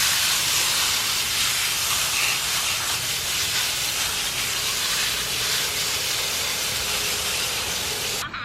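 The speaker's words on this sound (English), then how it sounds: "So I'm going to spray this down as well with the hose." A garden hose sprays water down onto a compost pile, giving a loud, close, continuous hiss that holds steady for the whole stretch and cuts off at the very end.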